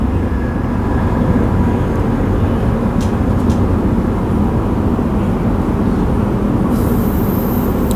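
A six-car passenger train rumbles along the tracks in a loud, steady roar heard from on board, with faint clicks and a hiss near the end.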